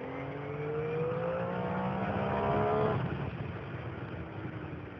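A Triumph Street Triple motorcycle engine revs up with a smooth rising whine for about three seconds, then drops back to a rougher, steady note, heard from close by.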